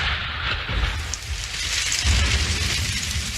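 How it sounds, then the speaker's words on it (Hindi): Rain beginning to fall in a Doraemon cartoon, a steady broadband hiss with low rumbling underneath, continuous and fairly loud with no talking. "ये तो बारिश शुरू हो गई।"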